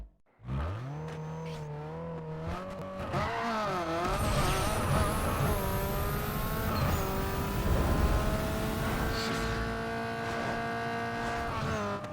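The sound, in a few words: Acura RSX drag race run in video game Need For Speed Underground 2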